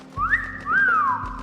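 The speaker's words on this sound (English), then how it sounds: "Daring gave an impressed whistle." An impressed whistle sounds alone: a clear two-part whistle that slides upward, then rises and falls in a longer swoop.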